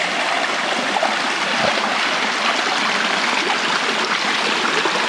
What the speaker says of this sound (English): We'll have a couple minutes worth of just creek noises for this to end